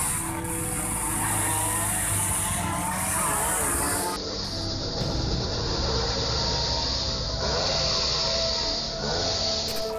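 Racing vehicles at a roadside street race, engines roaring loudly and continuously near the road, with a high whine running over the traffic noise throughout.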